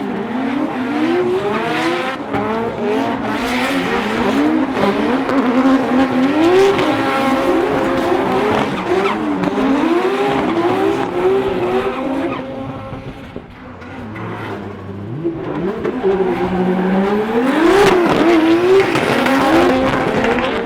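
An SR20-powered drift car doing donuts, engine wailing near the limiter with rising and falling revs under continuous loud tire squeal for about twenty seconds.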